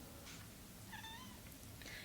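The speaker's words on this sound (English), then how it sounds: "I don't know if you heard that, but she meowed" A female cat gives a single short meow, faint against a steady low background hum.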